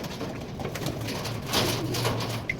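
Breeding pigeons of a Mustang Cross Adonis line coo softly and steadily nearby, with a low continuous murmur of calls and no talk.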